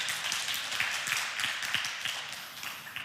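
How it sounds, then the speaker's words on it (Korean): A church congregation in Sydney claps for its youth worship team: a scattered, medium-distance burst of many hands clapping, steady for a few seconds and slowly thinning out. "하나님께 영광의 박수 올려드리겠습니다"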